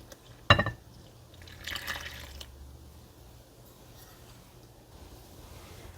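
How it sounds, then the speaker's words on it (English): Water poured into a well of flour for whole wheat baguette dough, starting with a sharp splash and followed by a soft, brief liquid gush, close and fairly quiet. "Just make a little well in the center. And I'm going to add my water."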